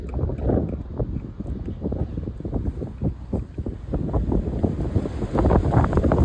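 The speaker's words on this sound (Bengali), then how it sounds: "আপনারা শব্দ মনে শুনতে পাচ্ছেন বাতাসের" Strong outdoor wind buffets the microphone during work on a car's manifold absolute pressure sensor, a loud, continuous low rumble with uneven gusting surges that builds toward the end.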